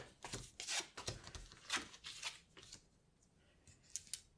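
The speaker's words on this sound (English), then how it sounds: "Flipping the cards back." Playing cards flipped back over on a table during a relaxed tabletop dice game, a quick run of soft papery snaps and brushes, close and quiet, trailing off into near silence with a couple of faint ticks at the end.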